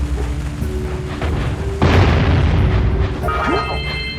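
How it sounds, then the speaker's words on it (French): Cannonballs blasting crates apart in the PS2 game Jak & Daxter, a loud boom and crash bursting in midway over a busy game soundscape, followed by chiming pickup tones and a voice talking underneath. "vous appâtez les boulettes de canon pour détruire les caisses"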